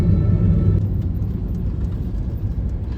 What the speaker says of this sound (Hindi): दिल्ली का ट्रैफिक